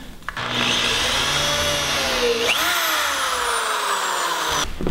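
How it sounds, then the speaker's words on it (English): A power drill pre-drills holes in wood for a king size bed frame, giving a steady close whine for about four and a half seconds whose pitch dips and then slowly falls, with no talking. "I've gone ahead and pre-drilled just to save the wood from cracking."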